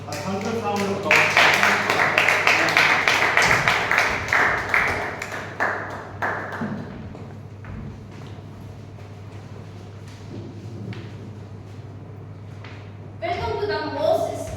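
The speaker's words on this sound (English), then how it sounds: "Let's have a big round of applause, a thunderous round of applause." Audience applause at a Toastmasters meeting: a dense burst of clapping up front that fades out over a few seconds, followed by a quieter room, then a brief second flurry of claps near the end.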